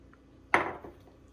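Hibiscus and tamarind dropped into a pot for Mexican ponche, making a single sharp clanking impact with a short ring, followed by a faint second knock.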